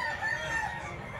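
Chickens and a rooster at a poultry market, short faint clucking and crowing calls close by over a low background murmur.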